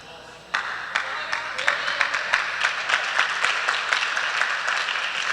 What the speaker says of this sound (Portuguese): Forte esse aplauso à palavra.